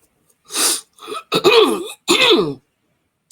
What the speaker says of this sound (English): It's like I cannot get rid of this cough.